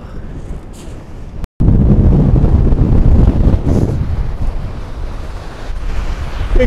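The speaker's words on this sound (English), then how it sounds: "You can see it's a really windy day." After a storm at the sea shore, strong wind buffets the microphone over a constant roar of breaking waves, loud and continuous with one brief cut-out.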